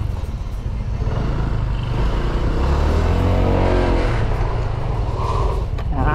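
Honda Vario 160 scooter from 2023 ridden on a test ride, its engine humming steadily and loud up close with road rumble throughout, rising slightly near the end.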